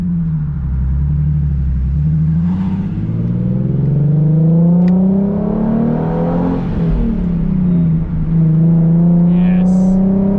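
Nissan 370Z Nismo fitted with an AAM Competition S-Line short tail exhaust pulls hard under acceleration, its loud engine note rising steadily through the revs, dipping at a shift near the middle, then climbing again close to the car's cabin.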